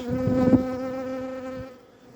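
A honey bee on a sunny December day at a hive buzzes loudly and close, a droning hum that holds steady for a couple of seconds before fading away.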